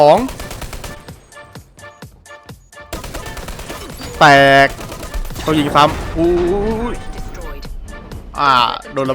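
Rapid bursts of gunfire in the video game Dirty Bomb crackle in quick volleys, with someone talking excitedly over and between the shots.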